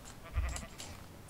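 A single short sheep bleat from Minecraft, faint and wavering, sounds once over quiet game background with no speech.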